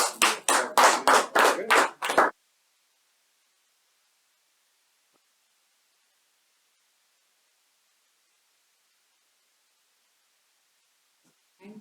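An audience at a Toastmasters club meeting claps in a steady, rhythmic unison of about seven loud, sharp beats over two seconds, then falls silent.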